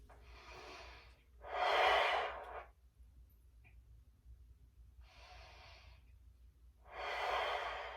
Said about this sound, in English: Continue deep breathing.